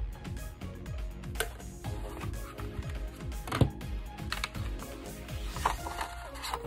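A card run through an Empress die-cutting machine for Anna Griffin border dies, giving a steady mechanical ratcheting and grinding with rhythmic ticks and clicks, close and moderately loud, with no talk.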